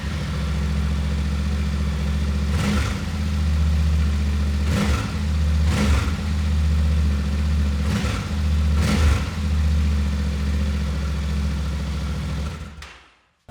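A Yamaha Tenere 700 motorcycle engine runs loud and close with its exhaust, a steady mid-pitched drone broken by five short throttle blips before it cuts off at the end.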